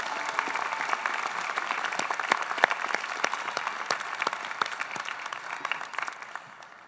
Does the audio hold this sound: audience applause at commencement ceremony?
yes